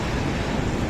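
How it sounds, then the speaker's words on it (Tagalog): High typhoon waves crash along the shore at Gonzaga, Cagayan, a thick, churning wash of surf mixed with wind rumble, loud and continuous for a single second. "Nagangalit din ang mataas na alon sa baybayin."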